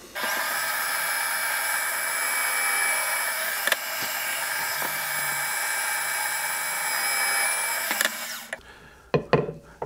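Power drill boring holes for eye bolts in wood for a homemade ring toss game, a loud, close, steady high whine that runs for about eight seconds, then stops, followed by a few faint knocks.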